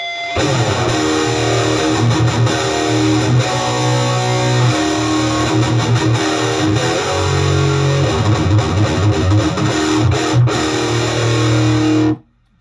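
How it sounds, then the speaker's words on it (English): An electric guitar plays heavy chugging riffs and sustained chords through the distortion channel of a Crate G1600XL amp head, loud and saturated for about twelve seconds before cutting off abruptly. "This is the distortion channel."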